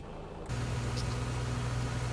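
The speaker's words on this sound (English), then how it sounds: "Right, anyway, let's start engine number 2." A simulated Boeing 737 engine number two spooling up in a flight simulator, a steady loud broadband roar with a low hum that jumps in level about half a second in and then holds constant.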